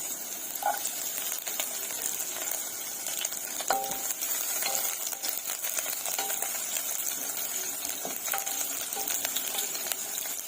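Onion frying in hot oil in a pan for macaroni soup, a steady close crackling sizzle with scattered sharp pops and stirring clicks, continuous and without talk.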